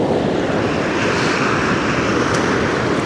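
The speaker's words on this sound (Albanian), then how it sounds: "Ja tërbimi lumit" The Lepenc river rages in flood near the Doganaj bridge in Kaçanik, a loud, unbroken roar of rushing water with wind noise, close and dominant throughout.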